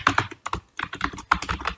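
Rapid typing on a computer keyboard, a close, loud series of uneven key clacks in quick bursts with short pauses, no voice over it.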